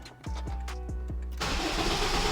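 A car engine cranks with several rhythmic starter pulses, then catches and settles into a loud, steady idle close by.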